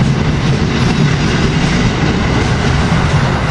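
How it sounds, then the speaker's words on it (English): An ACS-64 electric locomotive, number 605, pulls a train out of Cornwells Heights station, a loud, close rumble of rolling wheels and rail noise building steadily without pause. "And there he goes, taking off. ACS 64, for number 605, leading this train"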